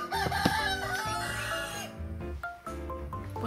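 A rooster crows nearby, one long drawn-out call followed by shorter clucking and crowing phrases, loud and clear with no talking over it.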